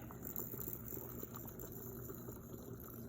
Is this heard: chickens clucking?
no